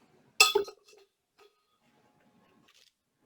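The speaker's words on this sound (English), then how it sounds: "Got my whisk." A whisk clinks against a bowl in one bright metallic rattle, followed by a few faint taps in a quiet room.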